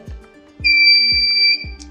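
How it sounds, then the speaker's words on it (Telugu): A DIY metal detector placed on a metal sheet sets off its buzzer, a loud, close, continuous high-pitched electronic whine lasting about a second, over faint regular low thumps. "మెటల్ సీట్ పైన పెడుతుంటే ఆటోమేటిక్గా మనకి బజర్ సౌండ్ వస్తుందన్నమాట"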